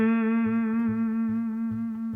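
Electric guitar holding a sustained note with a one-directional vibrato that pulls the string down without pushing back, giving a steady, wavering tone with faint pulsing, played alone and fairly loud.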